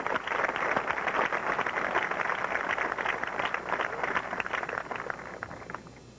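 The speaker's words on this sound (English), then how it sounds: "Please give a round of applause for Bobby Frankfurt." A high school graduation audience applauds steadily as a new Board of Education president is introduced, a dense, even wash of many hands clapping from a distance that holds for several seconds and then thins slightly.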